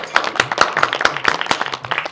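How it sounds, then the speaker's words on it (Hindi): Rhythmic hand clapping from a small group at a Rajasthani comedy sketch, sharp claps repeating steadily at close range for a couple of seconds. "तालियां बजाओ"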